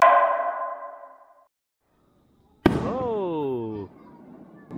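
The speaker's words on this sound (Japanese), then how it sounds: "なんとハウスの目の前で花火が上がっています。" A firework bursts with a sharp crack followed by a descending whistling, ringing tone that fades, after an earlier fading tonal ring and a pause, at a summer fireworks display on the Noto coast in Japan.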